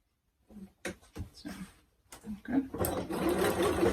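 A sewing machine stitches one-centimetre seams on a men's shirt, first in short bursts with pauses, then running steadily and louder near the end.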